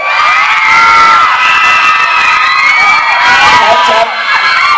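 A large audience at a Thai stand-up comedy show screams and cheers continuously, loud and shrill, with high-pitched shrieks layered over a dense roar of voices throughout.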